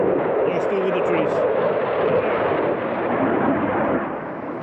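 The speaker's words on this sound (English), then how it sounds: "you can see the plane out there, but the sound is quite a bit behind it" A low-flying airplane passes over a crowd at an air show, a loud sustained roar that fills the air, then eases slightly as it moves away.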